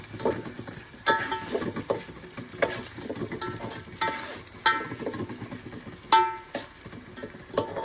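Crushed green chillies hit a pan of Ratnagiri-style crab curry and sizzle as a spoon stirs and scrapes in repeated strokes, with soft frying crackle underneath and no talking.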